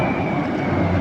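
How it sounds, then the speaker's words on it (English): Roller coaster train running its circuit at Six Flags New England, a steady, broad rumble with a faint high whine, continuous and fairly distant-sounding, no voices. "Here we can see train making its rounds on the course."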